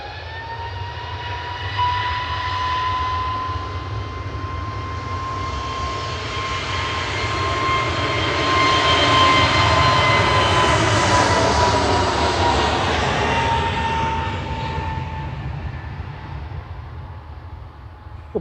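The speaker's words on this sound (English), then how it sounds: "That was EasyJet to Prague departing with flight 2229." An EasyJet airliner departs Manchester Airport, its jet engines swelling into a broad roar with a high whine, peaking mid-way and then fading as it climbs away, heard alone without talk.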